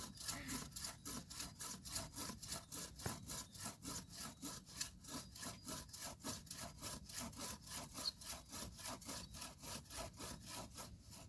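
A hand saw cuts through wood in steady, rhythmic back-and-forth strokes, close and rasping, with no talking.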